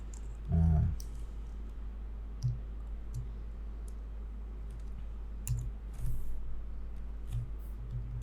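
A computer mouse clicks while someone draws a flat illustration, sparse sharp clicks scattered at irregular intervals over a steady low hum, close and fairly quiet.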